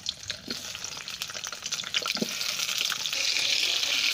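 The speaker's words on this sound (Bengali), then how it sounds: "আলুগুলো দিয়ে ভেজে নিচ্ছি প্রথমে" Potatoes fry in mustard oil in a hot wok with a dense, steady sizzle that grows louder and more constant, broken by a few soft clinks and stirring scrapes.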